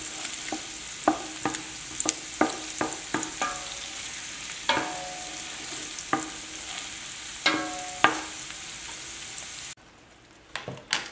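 Garlic and aromatics sweat in a pan for a velouté sauce, giving a steady low sizzle broken by sharp scraping stirs of a spoon at irregular intervals; the frying noise cuts off abruptly near the end, leaving a few quiet clinks.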